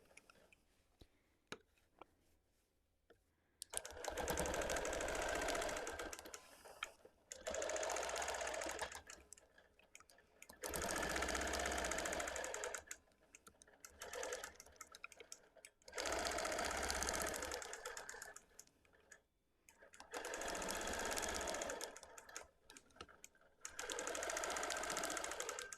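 A sewing machine stitches a red and white quilt in rapid, steady runs of several seconds each, stopping briefly between bursts, close and clear in a quiet room.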